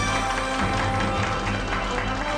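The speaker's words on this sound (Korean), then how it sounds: "박수로 맞이해 볼까요?" A Korean television talk-show studio audience applauds to welcome a guest, a dense, steady wash of clapping that fills the whole stretch without pause.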